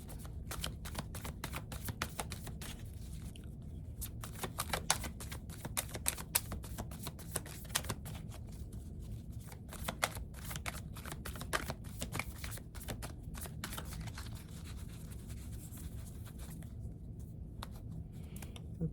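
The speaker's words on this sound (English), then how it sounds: "All right, so I am just gonna pull some cards" Tarot cards being shuffled close by: a continuous dense riffle of quick flicking and patting, steady and unbroken for the whole stretch.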